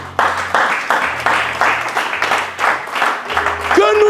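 Congregation clapping in praise during a church service, dense rhythmic applause with regular beats throughout, a low hum and tonal notes underneath, ending with a sustained tone.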